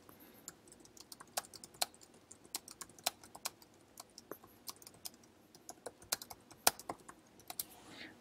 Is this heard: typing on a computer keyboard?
yes